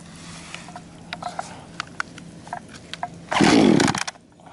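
Echo CS260TES chainsaw being pull-started: a run of light mechanical clicks and taps, then one short, loud engine burst lasting under a second that quickly dies away.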